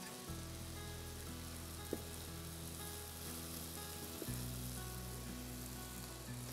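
Chicken pieces frying in a pan, a steady soft sizzle with occasional small clicks as pieces are turned, alongside a low continuous hum.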